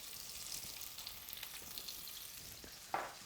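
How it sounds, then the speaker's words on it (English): Fresh onion fries in beef dripping and Scottish rapeseed oil. It makes a soft, steady sizzle with faint crackles and light stirring, plus one brief sharper clink near the end. "the fresh onion into the sizzling dripping and Scottish rapeseed oil"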